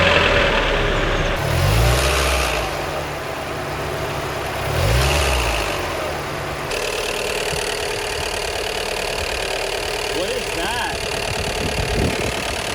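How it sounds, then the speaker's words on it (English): A Mazda Miata engine runs with a rattle, a few short revs rising and falling over a steady idle, moderately close, while a person talks over it. "Wait, did my engine just rattle?"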